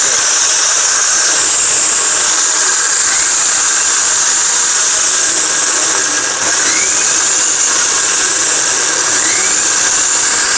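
A Havells blender whirs at high speed on pulse, a loud, steady, whining motor roar with a few brief pitch sweeps as the load shifts.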